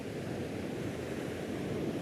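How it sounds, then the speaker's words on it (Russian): Sea waves roll onto a sandy beach at Kargıpınarı, Turkey, on an overcast day, giving a steady, full wash of surf with no breaks and no voices. "А здесь, видите, как песчаный пляж и волна поднимается."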